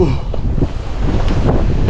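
Strong wind roars and buffets the microphone in a continuous, loud rush with no clear voices.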